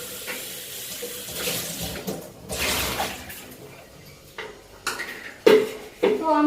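Mango pulp being rinsed under a running kitchen tap, water splashing into a sink with intermittent clinks of dishes and a few louder bursts of flow near the end.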